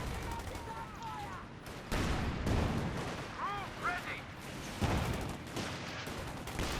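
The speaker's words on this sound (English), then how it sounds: "Shots fired, Fulsker setting out." Gunfire from a Company of Heroes 2 match, with scattered shots, bursts and booms in a busy battle mix, moderately loud and repeated irregularly, with a commentator talking over it.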